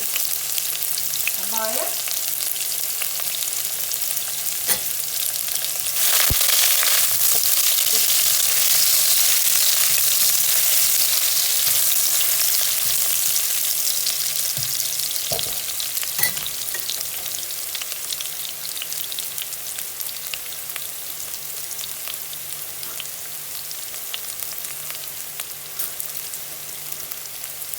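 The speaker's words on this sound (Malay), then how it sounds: "biar bawang putih tu garing ya" Garlic crisping in hot oil for chicken mandy rice, a steady broadband sizzle throughout with occasional stirring clicks, and a brief spoken phrase near the start.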